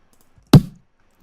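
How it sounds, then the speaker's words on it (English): One sharp, dry tongue click made close to a microphone, a single brief snap in otherwise near silence. "Third one is a click of my tongue"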